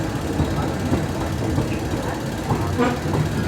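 Ordinary passenger train 445 from Chumphon to Hat Yai pulling out of Surat Thani station, a steady rumble and rolling clatter of railcars, close and continuous.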